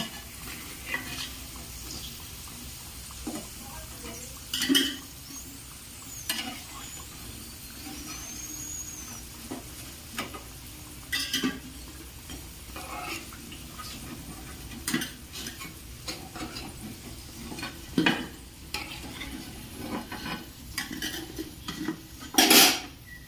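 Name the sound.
fried potato snacks being lifted out of the pan one by one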